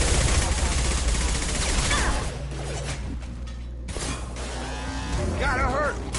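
Dense bursts of weapon fire in the sci-fi shooter Mass Effect, loud and continuous for the first two seconds, then thinner with mechanical whooshes and fragments of voices.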